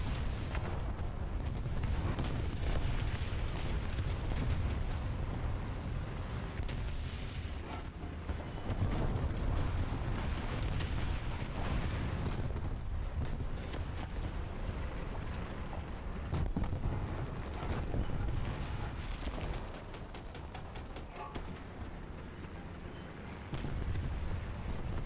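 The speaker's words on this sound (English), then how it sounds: "3 bombs just landed all around me" Bombs burst around a warship in World of Warships, a dense run of heavy booming explosions and rumbling blasts, loud and continuous, with a few sharper cracks over a constant low roar.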